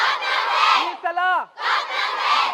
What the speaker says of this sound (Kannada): ಅಂದ್ರೆ ಇಷ್ಟೊಂದು ಅತಿಯಾದ ಕ್ರೌಡ್ ಕೂಡ ಇಲ್ಲಿ ಕೇಳಿ ಬರ್ತಾ ಇದೆ